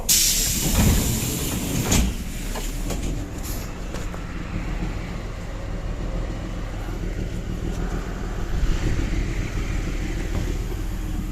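A passenger train accelerating out of a station, heard from inside the carriage as a steady low rumble and hiss with a few knocks and clunks near the start, continuous and moderate in level.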